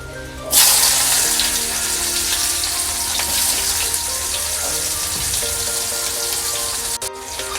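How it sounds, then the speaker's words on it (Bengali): Chopped onions dropped into hot oil with dried red chilli and bay leaf burst into a loud sizzle, settling into steady close frying with faint stirring, no voices. "একটু ভালো করে নাড়িয়ে নিয়ে এই পেঁয়াজ কুচিগুলো দিয়ে দেবো।"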